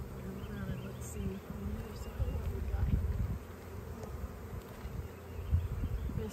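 Honey bees buzz steadily around an open beehive holding solid brood, a close, dense, continuous hum without pauses.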